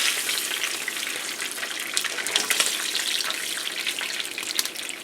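Tilapia fish frying in a pan gives off a steady, dense sizzle with crackling spits scattered through it. It runs close and continuous, with no voices over it.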